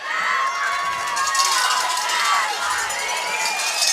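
A crowd of fans at a high school football game, Post versus Farwell, cheers and shouts in a steady, loud roar that swells in waves, with high-pitched voices and whistles carrying over the din.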